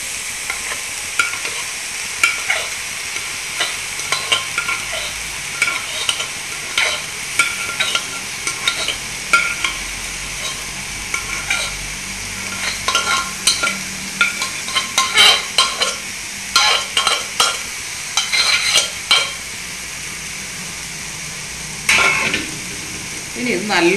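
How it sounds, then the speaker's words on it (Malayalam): Elephant yam stem and green gram stir-fry being stirred in a pan for thoran, with steady scraping and clinking of a spoon against the pan over a soft continuous sizzle, close and fairly loud, no talking. "ഇനി ഇത് നല്ലോണം ഇളക്കി കൊടുക്കുക."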